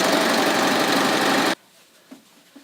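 A sewing machine chains off denim at the edge of a shortened jeans hem, running in a loud, steady rapid stitching burst for about a second and a half before stopping, followed by a couple of faint soft clicks.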